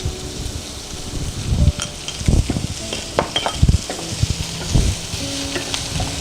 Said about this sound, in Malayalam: ആ മസാലപ്പൊടികളുടെ എല്ലാം പച്ചമണം മാറുന്നതോടെ വരെ നന്നായിട്ട് നമ്മൾ ഇളക്കി കൊടുക്കണം